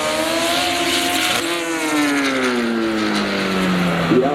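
A Honda drag racing car launching down the strip at a spectator drag event, its engine screaming loud and near as revs climb, then falling in pitch as it pulls away, with crowd and track noise beneath.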